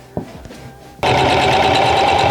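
A sewing machine stitches a small hole closed in a fabric bookmark, starting after a couple of soft handling taps and then running in a fast, steady, close whir to the end.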